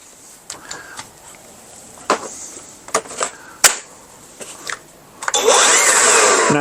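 Scattered clicks and knocks, then a Craftsman V20 cordless leaf blower starts up with a loud, steady rushing whine that continues to the end.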